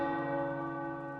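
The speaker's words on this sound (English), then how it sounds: "The tower bells are ringing." Tower bells ring in the video game Marvel's Midnight Suns, a steady, sustained metallic chime with rich overtones that fades slowly and plays alone without speech.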